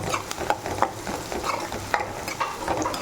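Hand-crushed garlic sautés in a pan for a village-style prawn curry, with a steady sizzle broken by repeated spoon strokes scraping the pan, close and fairly loud.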